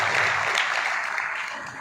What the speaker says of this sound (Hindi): इनका भी जोरदार तालियों से बहुत अभिनंदन करेंगे